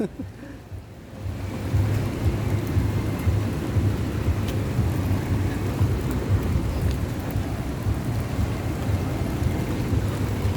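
Rain falling outdoors in Greenbelt, Makati, a dense, steady hiss of drops on surfaces that swells in after a quieter first second and continues evenly, heard close with no clear speech.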